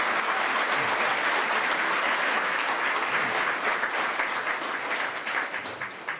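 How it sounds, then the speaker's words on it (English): A village crowd in Waramuri, Guyana, applauds the country's president, a thick, continuous wash of clapping that stays loud before thinning toward the end. "let's give a big round of applause for His Excellency"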